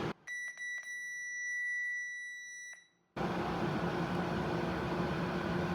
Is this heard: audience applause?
no